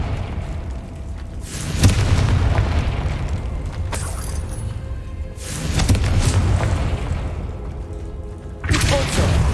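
Repeated Confringo blasting-spell explosions in Hogwarts Legacy, three loud booming bursts spaced a few seconds apart, each with a rumbling tail over steady game ambience.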